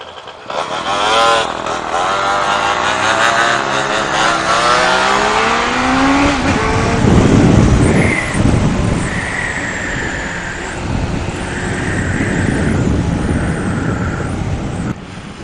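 Motorcycle with its exhaust baffles removed, engine revving loudly and continuously nearby, with rising and falling pitch as it accelerates and shifts during a ride.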